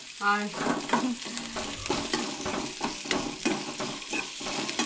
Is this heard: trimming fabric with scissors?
no